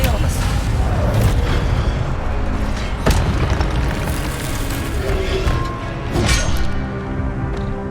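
Repeated Expelliarmus disarming spells in Hogwarts Legacy hit with heavy booms and sharp bursts over a loud, busy battle din, with a strong impact near the middle and more blasts toward the end.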